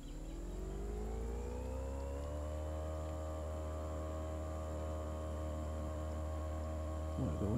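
A boat engine in the Fishing Planet video game starts up and revs, climbing in pitch over the first couple of seconds, then holds a steady, loud drone with no talk over it.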